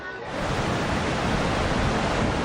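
Big storm-driven sea waves along the shore at Sagñay, Camarines Sur, during a typhoon, a dense, continuous roar of surf that rises quickly and stays loud and unbroken.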